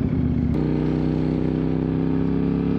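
A KTM 990 Superduke motorcycle engine runs with a loud, steady, close droning rumble, a brief blip near the start and then an even hum.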